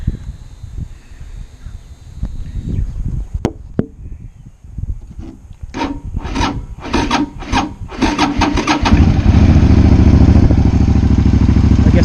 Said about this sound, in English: Let me go ahead and get it running and started for you.